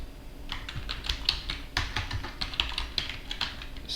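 Typing on a computer keyboard, entering a command at a server's command line: a steady run of quick, close, crisp key clicks with uneven rhythm and brief pauses, no talk over it.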